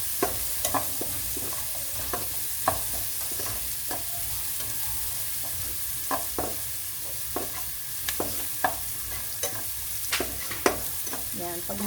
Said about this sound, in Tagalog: pag mapula na po ang bawang sibuyas, babalik natin yung pork chop.